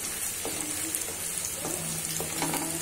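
Ginger, garlic and green chilli fry in a pan for restaurant-style dragon chicken, giving a steady close sizzle with a few soft scraping stirs and no talk.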